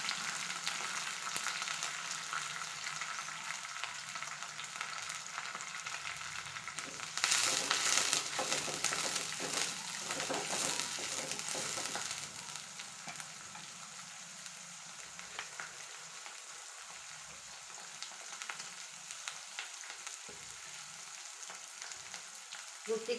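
Curry leaves and onion sizzle steadily in a hot pan while cooking uppittu, a continuous close crackle with a brief louder burst of frying partway through.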